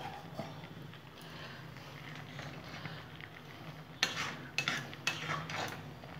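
Kul (jujube) pickle being stirred in a pan, with a few scraping, clattering spoon strokes toward the end over faint background noise.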